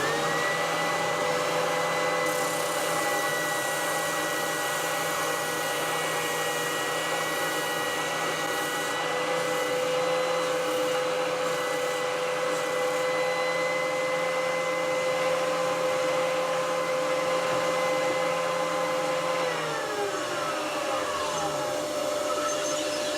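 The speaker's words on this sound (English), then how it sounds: "We've got the sander hooked up to the vacuum as well, because it's going to make a bit of dust" A continuous whining orbital sander works on MDF alongside a connected dust vacuum's steady roar for a long stretch, then winds down near the end.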